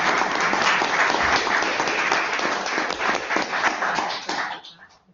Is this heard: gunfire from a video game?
no